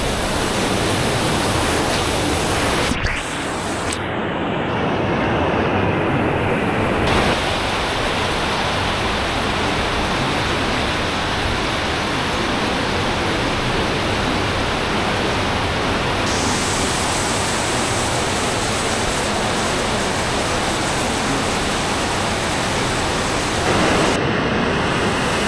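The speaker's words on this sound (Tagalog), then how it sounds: "Ang lakas ng agos." The strong current of Marilag Falls in Santa Maria, Laguna, makes a loud, continuous broadband roar of rushing water. It holds steady for the whole stretch, with no voices.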